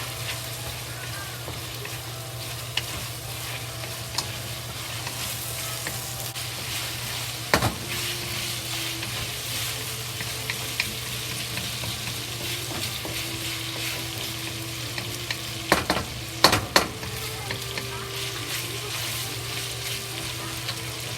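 Ginger frying in hot oil and rendered pork fat with leftover meat in a pot, a steady sizzle running throughout, with a few sharp clinks of a utensil stirring against the pot.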